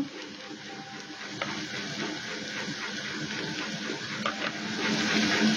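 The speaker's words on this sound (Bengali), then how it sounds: "মশলাগুলো ভালো করে কষে নেব" Ground turmeric, Kashmiri chilli, coriander and cumin sizzling in hot oil with ginger and garlic for a cauliflower ghonto, a dense continuous frying hiss with occasional stirring scrapes, close and steady throughout.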